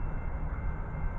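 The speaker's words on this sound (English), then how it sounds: "here comes another train." Amtrak 91, the Silver Star, passes southbound on a CSX line in Indiana as a steady, loud broadband rumble of rail traffic with no voices over it.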